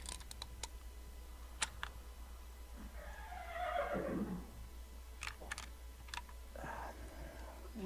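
In the Gabriel Knight 2 video game, a horse gives a single whinny midway, rising and falling, amid faint clicks and light ambient hiss; no voices.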